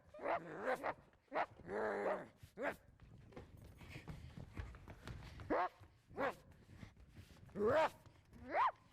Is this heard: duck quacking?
no